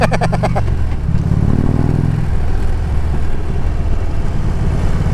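A motorcycle fitted with an aftermarket exhaust runs close by, loud and throaty, with a deeper surge early on before it settles into a steady rumble.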